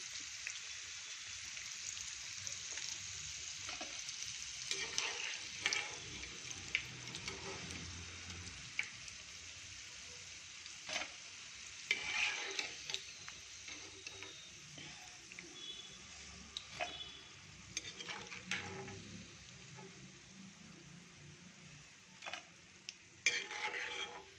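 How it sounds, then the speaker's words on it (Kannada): Pieces fried a second time in hot oil in a pan, a quiet continuous bubbling sizzle with scattered clicks and scrapes of stirring, steady with no talk. "ಇದನ್ನು ಒಂದು ರೌಂಡ್ ಹಾಕಿ ಪುನಃ ಇದನ್ನು ಡಬಲ್ ಫ್ರೈ ಮಾಡಿದ್ರೆ ತುಂಬ ರೋಸ್ಟ್ ಆಗುತ್ತೆ"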